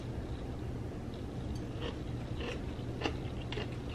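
A crunchy snack is chewed close to the mic, with a series of soft, irregular crunches over a steady low background hum.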